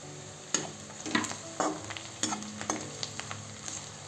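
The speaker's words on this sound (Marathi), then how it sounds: "यात लसूण घालू चिरलेली" Chopped garlic goes into sautéing onions in a pan, giving a close sizzle with repeated scraping and clacking of a spoon stirring in uneven strokes.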